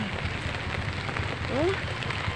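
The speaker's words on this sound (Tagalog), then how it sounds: "Sa buong magdamag at maghapon na ulan, ito na walang tigil, baha ang inabot ng ating lugar." Heavy rain from Typhoon Carina pours steadily onto surfaces in a flooded neighbourhood, a constant hiss close by with a brief faint chirp partway through.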